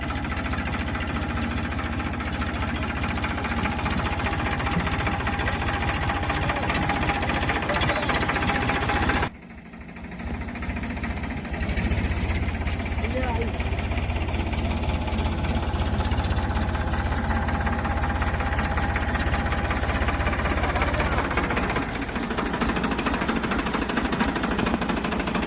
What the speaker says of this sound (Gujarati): ટ્રેક્ટર નો અવાજ